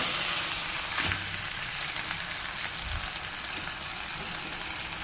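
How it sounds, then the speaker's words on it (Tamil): A large piece of masala-coated fish fries in oil on low heat, giving a steady close crackling sizzle with a short knock early on as it is turned over. "இப்போ ஒரு பக்கம் வந்துடுது நம்ம மறுபக்கம் திருப்பி விட்டுக்கலாம்"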